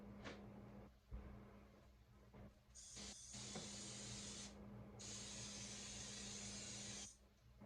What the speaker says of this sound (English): Just spraying some oil on everybody.